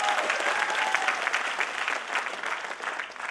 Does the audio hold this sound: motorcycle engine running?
no